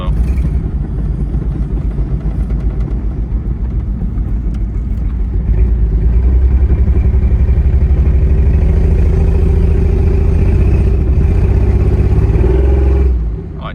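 A Jeep XJ engine with a suspected faulty ECU runs steadily, its loud, low rumble building slightly partway through after a downshift, then easing off at the very end.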